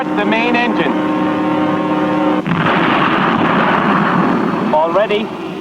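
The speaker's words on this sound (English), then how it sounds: "Start the main engine." Anime spaceship main engine starting for takeoff, a loud, steady mechanical drone with tonal hum that surges into a heavier roaring rush midway, under speech and brief electronic chirps.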